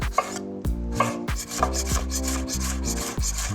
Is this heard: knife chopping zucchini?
yes